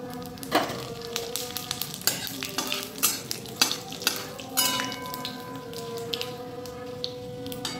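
Dry red chillies, whole cumin and bay leaf crackling in hot oil, with sharp pops and spatters over a light sizzle and scrapes of a spoon against the pan, close and fairly quiet.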